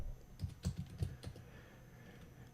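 Quiet, close typing on a computer keyboard as a search term is entered in software, a short run of soft, irregular key clicks with brief pauses between them.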